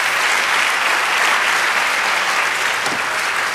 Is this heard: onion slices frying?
no